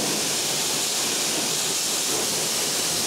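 Steady broadband hiss of water spraying onto a freshly cleaned car wheel rim during a rinse, continuous and fairly loud with no pauses or voices.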